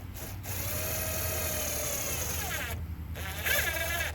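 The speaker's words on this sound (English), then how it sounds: "I want to go ahead and just pre-drill these." A power drill whines steadily while pre-drilling screw holes in a kayak hull for a rod holder, running continuously near the microphone with brief pauses and a revving burst toward the end.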